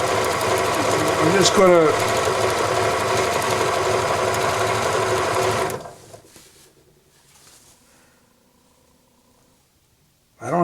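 Janome Memory Craft 6500P sewing machine running loud and steady for several seconds before stopping; a voice speaks briefly in the quieter stretch afterward.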